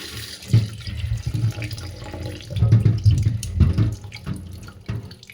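Water runs and splashes in uneven surges while clothes are washed and soaked, a close, gurgling flow that swells and fades without any talk.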